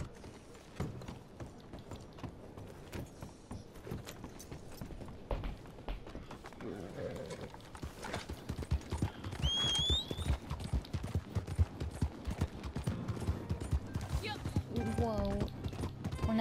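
A horse's hooves in Red Dead Redemption 2 thud in a steady galloping rhythm, close and continuous under game ambience, with a brief whinny partway through.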